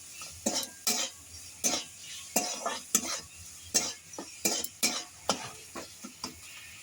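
A spoon stirs a dry mix of cumin powder and sugar for singara filling in a pan, scraping in a steady run of about a dozen distinct close strokes with light metallic clinks.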